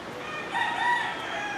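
A rooster crows once, a clear, fairly close call rising and falling over about a second, with faint background noise and no talking.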